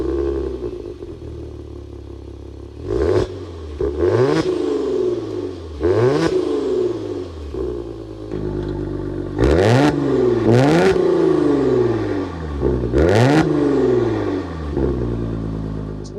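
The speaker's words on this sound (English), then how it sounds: "We need to start it up so you could hear that Maserati exhaust note." A Maserati Quattroporte Modena twin-turbo V6 fires up and is blipped repeatedly, sharp exhaust revs rising and falling in quick bursts over a rumbling idle, loud and nearby.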